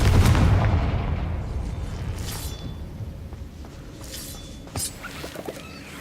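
The Confringo fire blast spell in Hogwarts Legacy lands as a heavy boom at the start, then fades into a rumbling tail, followed by a few smaller pops and crackles later on, loud and close.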